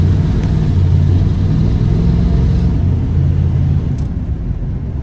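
Steady low exhaust rumble from an older car fitted with a Thermoquad carburetor while driving, droning loud and close with a slight shift in tone partway through and no talk.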